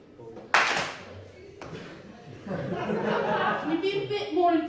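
A comedy club audience claps once together, a single sharp loud burst, then laughter and chatter follow.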